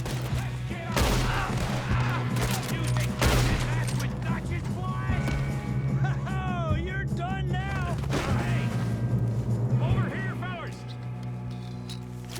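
Gunfire in Red Dead Redemption 2 during a shootout: scattered sharp shots, some close and loud, mixed with shouting voices and game background sound.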